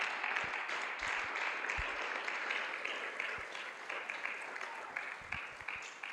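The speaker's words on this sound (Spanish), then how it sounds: "Dale ese aplauso al Señor, amado hermano." A church congregation applauding during a Spanish-language sermon, steady sustained clapping from a crowd heard at moderate distance, fairly faint, with a voice speaking faintly over it.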